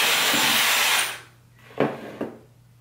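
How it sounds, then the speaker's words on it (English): A hair blow dryer runs loud and steady with a broad rushing whoosh while hair is smoothed, then shuts off after about a second, leaving a faint hum and a couple of soft handling knocks. "I'm trying to smooth it as much as I can with the blow drying."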